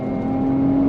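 Porsche Cayenne Platinum E-hybrid 3.0 V6 from 2023 pulling hard under full throttle, a steady loud engine drone with a rising tone heard from inside the cabin, brief and continuous with no talk.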